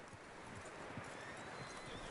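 Horse hooves clip-clopping in the video game Red Dead Redemption 2, a faint steady walking rhythm under a broad wash of ambient noise, with no talk.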